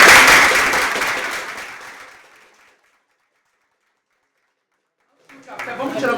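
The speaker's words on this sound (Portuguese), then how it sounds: "Salve de palmas, conselheiros." Newly sworn-in government councillors receive a burst of applause from a crowd at a swearing-in session; the clapping fades away to silence, then noise and voices pick up again.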